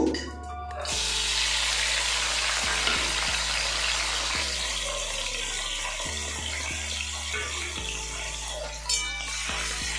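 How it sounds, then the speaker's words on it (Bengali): Tomatoes, green chilies and garlic hitting hot oil in a pan, an initial burst then continuous close sizzling with scattered clinks of a spoon stirring. "তেল গরম হয়ে গেছে এবার আমি টমেটো কাঁচা লঙ্কা রসুন ভেজে নেব"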